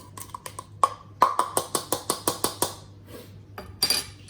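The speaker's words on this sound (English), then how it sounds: "let's make it no longer packed and stir it with our spoon to break it up again" A spoon knocks and scrapes against a bowl while stirring packed peanut butter cookie ingredients, a quick run of about a dozen evenly spaced clinks followed by a few more scattered taps.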